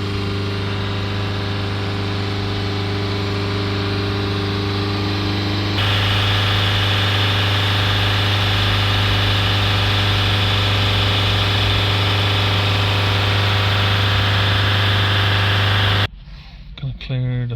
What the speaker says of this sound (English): Now we're just going to hold the revs up again.